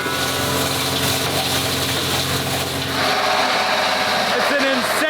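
Loud machine chopping up old plastic oil and detergent containers, a constant heavy grinding roar that shifts slightly in pitch partway through, dense and close.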